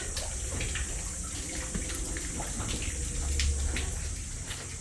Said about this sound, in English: And some that you can see is just water dripping in.